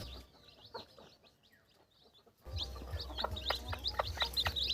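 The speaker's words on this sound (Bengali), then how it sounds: "ডিম থেকে বাচ্চা ফুটছে" Shrill peeping of chicks hatching from eggs in a home-made incubator, rapid repeated chirps, faint at first and then louder and busier over a low background hum.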